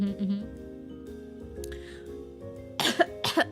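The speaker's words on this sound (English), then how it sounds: "now I'm coughing" A person coughs twice in quick succession, close and fairly loud, after a stretch of quiet room tone with faint background sounds.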